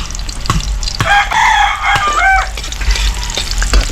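Chopped onions sizzle and get stirred in a hot pan for adobo, a steady close frying hiss with scraping strokes, while a rooster crows nearby partway through.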